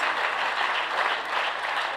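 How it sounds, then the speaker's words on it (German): Steady audience applause at a union gathering, dense and even for the whole stretch, moderately loud with no speech over it. "Applaus."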